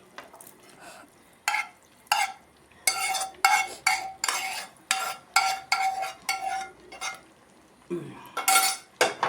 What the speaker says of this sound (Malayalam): അപ്പോൾ അതിനെ ഇട്ട് കൊടുത്തെങ്കിൽ നമുക്കൊന്ന് ഇളക്കി കൊടുക്കാം